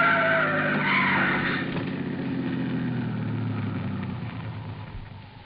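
A radio-drama car skids past an oncoming truck and a trailer, a loud sustained tyre screech with engine roar that slides downward in pitch and fades away.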